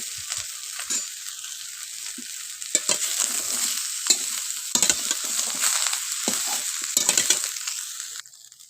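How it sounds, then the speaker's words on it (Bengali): Cut vegetables fry in a wok for sukto, a bright, continuous sizzle with repeated scraping and stirring strokes of a spatula at an irregular pace, close by and without speech. "তারপর আমি কেটে রাখা সবজিগুলোকে ভালো করে তাতে ভেজে নেব"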